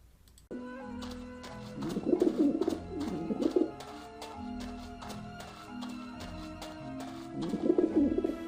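Skeletal pigeons from the video game Grim Fandango coo in soft, bubbling bursts over a steady game music bed, with a few light taps between the calls.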